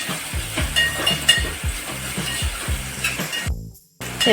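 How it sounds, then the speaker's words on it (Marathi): Plenty of onion with curry leaves sautéing in a pan until pink, for an old-style tempered broken-rice dish: a bright sizzle under a quick, regular run of scraping spatula strokes, close by, cutting out briefly near the end. "आता कांदा आपल्याला छान असा गुलाबी होईपर्यंत परतून घ्यायचा आहे"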